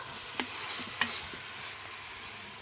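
Meat browning for beef bourguignon on the browning setting of a multicooker, a soft steady sizzle with a couple of faint clinks early on, fairly quiet and close.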